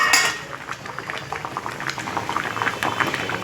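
Water boiling under a covered pot of fish on a gas stove, a steady close bubbling and rattling simmer with small lid and pot clinks.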